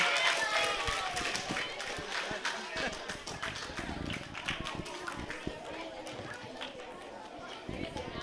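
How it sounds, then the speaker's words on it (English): Primary school pupils in an assembly applauding a Year 5 class, a steady patter of many small hands clapping amid crowd chatter and shuffling. "May I have a round of applause for 5 Taylor?"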